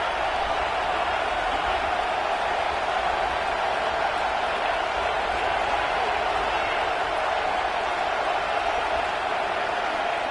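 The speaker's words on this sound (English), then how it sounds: "Listen to the crowd energy here in the early going." A stadium crowd at a Georgia vs Clemson college football game roars as a steady, dense wash of distant cheering and noise that holds throughout without breaks.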